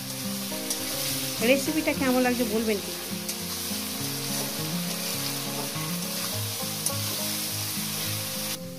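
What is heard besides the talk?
spice paste being fried and stirred in a pan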